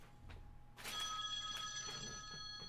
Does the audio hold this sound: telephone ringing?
yes